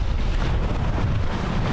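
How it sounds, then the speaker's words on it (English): Wind buffeting a sailing boat as the breeze picks up: a short, steady rumble and roar close to the microphone, alone without voices. "The wind's picked up a little bit"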